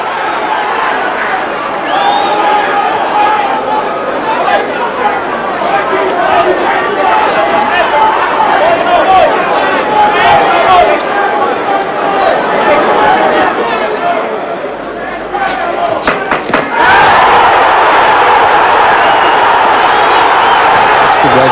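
A large boxing arena crowd at the Roberto Duran versus Iran Barkley fight roars and cheers continuously, loud and dense, with a commentator talking over the noise and a fresh surge of cheering near the end.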